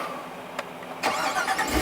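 Cadillac Escalade V engine cranking and catching, a short whirr followed by a loud, rough burst into a rumbling idle, heard close with the window down and no talk.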